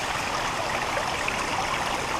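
Water from a curtain drain pours steadily into a basement sump, a constant close rushing and trickling with no pauses.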